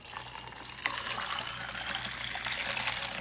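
Lemonade pouring into a drink, a steady close splashing stream that starts with a small clink and runs on continuously.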